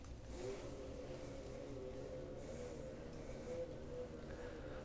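A quiet fitness bike being pedaled indoors, giving a faint, steady whir with soft periodic swishes of the flywheel, low in level and heard alone.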